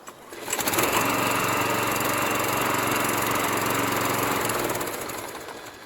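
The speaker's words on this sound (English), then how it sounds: "So the lawnmower I have is actually called a walk behind, and it's self-propelled." A self-propelled walk-behind lawn mower engine runs steadily and loudly up close, starting up and holding a constant drone for several seconds.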